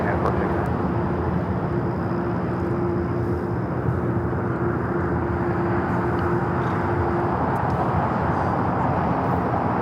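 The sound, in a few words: United Airlines Airbus A320 jet taking off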